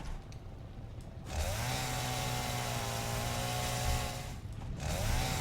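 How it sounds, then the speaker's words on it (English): A chainsaw in the video game Satisfactory clears leaves, starting up after a quiet moment and running with a steady buzzing drone, briefly dipping and revving again near the end; no talking. "obviously you don't need to use a chainsaw for leaves here"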